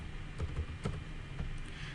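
Keystrokes on a computer keyboard while typing a price into an MS Word document, a few soft scattered clicks close by over a low background hum.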